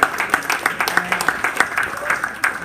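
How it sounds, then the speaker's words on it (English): Audience applause at a mobile growth meetup in Vancouver, a burst of scattered clapping from a gathered crowd with speech-like sounds mixed in, moderately loud and uneven. "let's give them a round of applause for opening the doors up to us"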